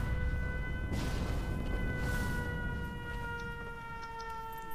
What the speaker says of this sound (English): Also, I'm putting a bunch of sirens down just because.